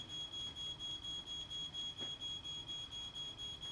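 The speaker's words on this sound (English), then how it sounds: "The ground floor smoke alarm activates." A ground floor smoke alarm sounds during an early-stage house fire, in which a wicker chair is burning, with a loud, steady high-pitched electronic tone pulsing in a quick regular rhythm throughout.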